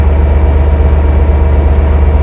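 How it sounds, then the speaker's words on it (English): A loud, steady rumbling hum of an idling Long Island Rail Road train at Speonk station recharging its air brake system, with a constant low mechanical drone and air noise and no voices. "Recharging their air brake system"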